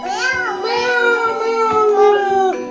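A voice imitates a cat, drawing out a long, wavering meow in a high tone, loud and close.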